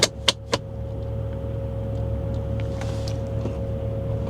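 A misfiring Bentley Flying Spur engine idling steadily as the car is shifted into gear, with a few sharp clunks at the start followed by a constant low hum.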